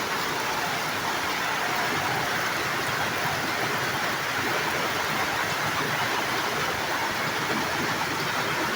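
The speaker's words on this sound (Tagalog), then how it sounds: "Lakas ng ulan." Heavy typhoon rain pours down steadily, a dense, continuous roar of water on surfaces that stays loud and unbroken throughout.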